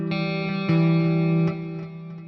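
Electric guitar played through the WaveMind Tone Suite Distant amp sim with delay: sustained distorted chords struck about three times, each ringing with chorus-like shimmer and echoing delay tails, loud and alone.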